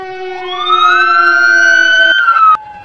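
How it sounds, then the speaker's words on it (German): Fire engine siren from a Lego set, a loud close electronic wail that sweeps upward and holds steady before cutting off abruptly, heard alone. "dann die Sirene und jetzt auch noch das Feuerwehrsignal?"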